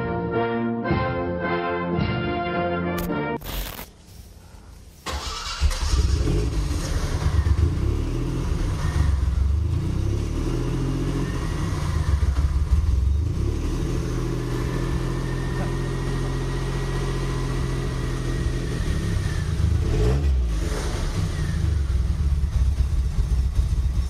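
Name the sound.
Citroën SM presidential car engine running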